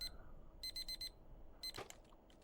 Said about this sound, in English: the alarm blares out of nowhere